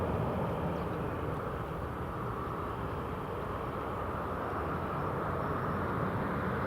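An EasyJet airliner roars steadily as it takes off at Newcastle International Airport, a broad, continuous engine rumble heard from a distance with no voices.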